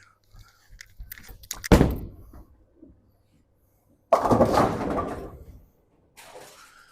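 A Storm Summit Ascent bowling ball is thrown on a 40-foot oil pattern, landing with a heavy thunk followed by a rolling rumble, and a second loud burst of rumble and impact a few seconds later.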